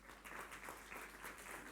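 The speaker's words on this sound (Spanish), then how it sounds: "Denle un aplauso si está de acuerdo con esto." Church congregation applauding during a Spanish-language sermon, a brief, faint, continuous patter of many hands clapping with a low hum beneath.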